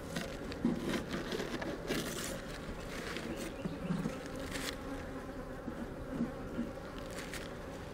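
Honey bees drone steadily around a hive during a beekeeping check. The buzzing is close and continuous, with individual bees swelling louder as they pass near.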